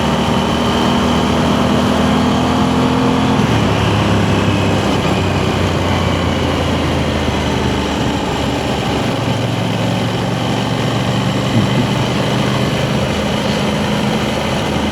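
An Aprilia Tuono 660 sport motorcycle engine held near 4000 RPM while riding, a loud, steady droning hum with a slight shift in pitch partway through and constant wind rush, with no talking.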